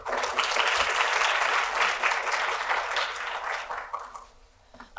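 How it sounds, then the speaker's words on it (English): An audience at an evening talk on border justice gives its speakers sustained applause for about four seconds, loud and dense, then it fades away. "One more round of applause."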